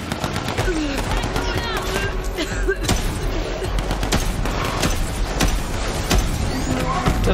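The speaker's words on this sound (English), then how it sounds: "that's a big explosion" Loud, continuous Borderlands 3 combat with rapid bursts of gunfire and a big explosion layered over a rumbling background.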